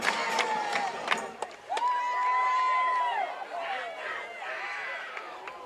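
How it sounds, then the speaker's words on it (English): A crowd cheers and roars at a high school football game between Kingfisher and Pauls Valley, a sustained wash of distant voices, with a commentator talking over it. "Got the players fired up. Got the crowd fired up."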